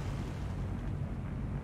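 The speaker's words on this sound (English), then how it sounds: "that was a secondary explosion, or potentially a impact from Alabama" Secondary explosion on a warship during a naval battle in War on the Sea: a sustained, deep rumbling boom rolling on at steady loudness, muffled and distant-sounding.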